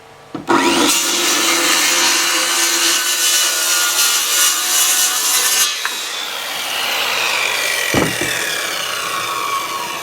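A hand saw rasps through wood for firewood and kindling at a rustic log cabin hunting camp in snowy weather, a near, continuous scraping stroke that breaks off briefly before resuming.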